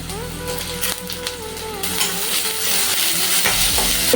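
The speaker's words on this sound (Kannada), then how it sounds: "ಈಗ ಹೆಚ್ಚಿರೋ ಈರುಳ್ಳಿ ಹಾಕೊಳ್ಳೋಣ ಹೆಚ್ಚಿರೋ ಕ್ಯಾಪ್ಸಿಕಮ್ ಹಾಕೊಳ್ಳೋಣ" Chopped onion and capsicum hitting hot oil with mustard seeds, cumin and curry leaves, a loud close sizzle with spatula stirring and scraping in the pan, the frying growing denser toward the end.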